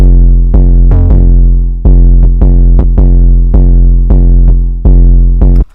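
Booming 808 bass notes in an FL Studio trap beat thump one after another in a loose repeating rhythm, each note cut off sharply before the next with no ringing tail, loud and alone.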